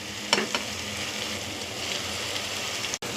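Drumstick curry sizzles steadily in a pan after ginger-garlic paste goes in, with a couple of scraping stirs near the start and continuous close frying hiss throughout, no talking.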